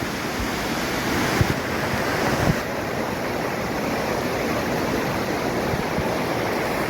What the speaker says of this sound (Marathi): भला मोठा असा वॉटरफॉल आहे.